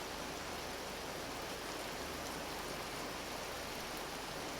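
Hail falls in the video game Vintage Story as a faint, even hiss of dense pattering that continues throughout with no talk.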